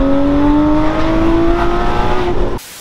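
Porsche Cayman GT4 fitted with an IPE full exhaust, revving hard and loud in one long rising howl, then cutting off abruptly near the end.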